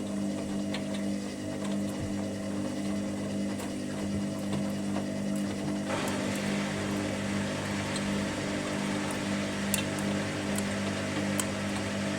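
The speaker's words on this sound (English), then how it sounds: "now we're getting to the first intermediate spin" A Hoover Dynamic Next DXOC58AC3/1-80 washing machine, running a rapid 44-minute 40°C darks cycle with a 1200 rpm spin, starts its first intermediate spin with a steady mechanical hum, a drum whirr that grows busier midway, and occasional small clicks.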